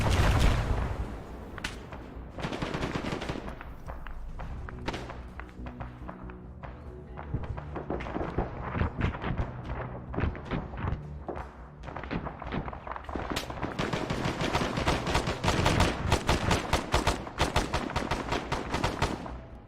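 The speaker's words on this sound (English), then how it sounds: "That indirect fire is ours or theirs?" Sustained gunfire and indirect fire in a military video game: dense, overlapping shots and rattling bursts with heavier thuds, continuous and loud throughout with no talk.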